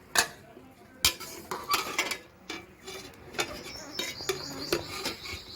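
Rice ladled out of a cooking pot to serve with a river-fish curry: close metallic clinks and scrapes of the ladle against the pot and plates, in short irregular bursts with quiet gaps between.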